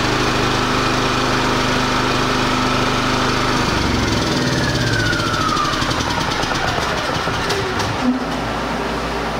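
A Champion dual-fuel propane/gasoline generator engine drones loudly and continuously, its tone shifting partway through as it keeps running while fuel starvation shuts it down.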